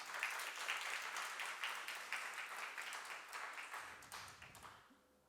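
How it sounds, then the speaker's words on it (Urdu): An audience at an award and oath-taking ceremony applauds steadily in a dense wash of clapping that fades out near the end. "ان دونوں کے لیے بھرپور تالیاں."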